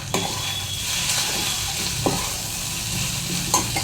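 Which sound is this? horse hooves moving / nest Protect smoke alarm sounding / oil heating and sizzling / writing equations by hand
oil heating and sizzling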